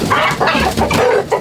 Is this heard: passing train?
no